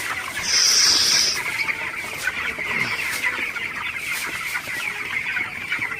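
Broiler chickens in a farm shed, about 24 days old and suffering in hot weather at night, cluck steadily as a dense flock, loud and continuous, with one brief sharper call near the start and no talking.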